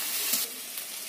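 Garlic paste fries in oil for an egg and potato curry, giving a short, faint, even sizzle with no voices.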